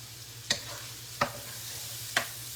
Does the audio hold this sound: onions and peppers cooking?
yes